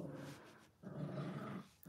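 Dogs indoors at home make low growling, grumbling vocalizations in two close bursts separated by a brief pause, fairly quiet.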